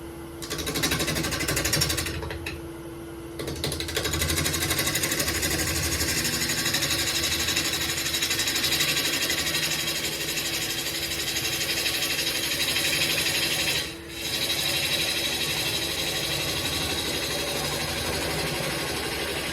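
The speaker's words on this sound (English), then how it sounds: "I think I'm going to start with the swept-back gouge" A swept-back gouge cuts into wood, making a steady, continuous buzzing drone that holds for most of the stretch, with a brief break near the start and one short dip late on.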